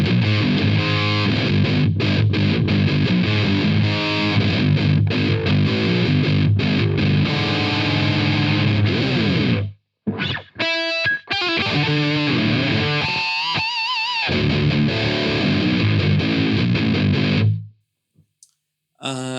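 Heavily distorted, low-tuned electric guitar through a distortion pedal playing sustained chords, loud and dense, with abrupt breaks and short choppy stabs near the end.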